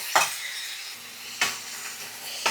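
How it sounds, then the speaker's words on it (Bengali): Cauliflower with spices being stirred and fried in a pan: three separate scraping stir strokes cut through a low continuous frying hiss, close and fairly loud, with no talking. "ফুলকপিটা আমি ভালো করে মিক্স করে নিয়েছি এবার এটা আমি একটু ভালো করে কষিয়ে নেব"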